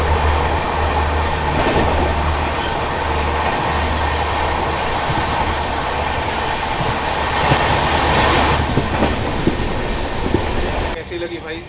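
A Vande Bharat train overtakes the Amrapali Express on an Indian rail line: a loud, continuous rumble of wheels and rushing carriages with rhythmic low thumps and clatter, fading abruptly at the end.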